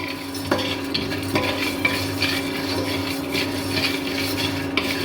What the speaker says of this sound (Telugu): ఇప్పుడు దీన్ని మనం డ్రై రోస్ట్ చేసుకున్నాము.